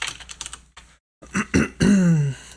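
Typing on a computer keyboard, a brief run of close key taps followed by a pause, then a throat clear and a short vocal sound.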